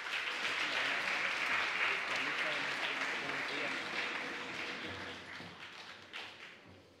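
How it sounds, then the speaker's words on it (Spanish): An audience claps for students at a regional oratory contest medal ceremony. The applause is dense and steady, then tapers off, and a voice talks over part of it. "Vamos a brindarle un fuerte aplauso a los estudiantes."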